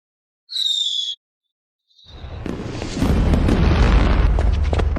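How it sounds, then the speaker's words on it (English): Fireworks bursting over a castle for a royal wedding: a brief whistling rise, then a dense run of rumbling booms and crackling pops that builds louder and continues, with no talk. "Why are they setting off fireworks?"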